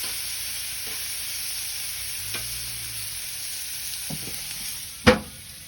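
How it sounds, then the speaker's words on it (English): Shelled, peeled and deveined prawns sizzle steadily on a hot Weber barbecue for a beef and prawn stir fry, a constant frying hiss broken by a few utensil clicks and one sharp clack near the end. "Alright, prawns have been cooking for a minute."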